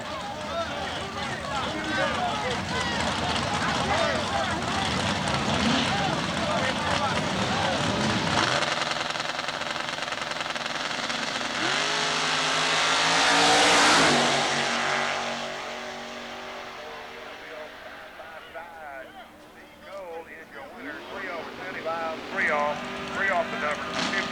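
A Camaro drag race car makes its run at Southeastern Dragway, its engine roaring loud and steady before a sharp rise in pitch as it passes and fades off, with an announcer talking over it throughout.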